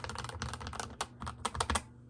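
Rapid typing clatters on a Razer keyboard with heavily lubed switches, giving a dense run of close, soft-edged keystrokes that end abruptly.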